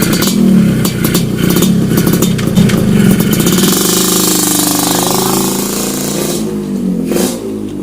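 A motorcycle engine revs hard close by, a loud rasping roar that rises and falls continuously while people talk over it.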